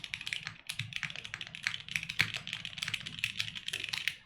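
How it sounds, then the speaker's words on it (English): Typing on a Vertex Arc 60 mechanical keyboard, a rapid, dense run of crisp key clacks heard close and alone. "and standard typing test."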